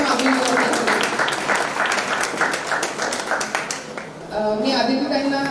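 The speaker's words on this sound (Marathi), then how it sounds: "एकदा जोरदार टाळ्या स्वतःसाठी आपण मागणी" Applause from an audience at a parents' group community event, dense clapping filling most of the stretch, fading briefly before a voice comes in near the end.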